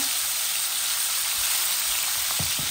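Sea bream pieces frying in a pan give a steady, dense sizzle that holds throughout, with a few soft low bumps near the end.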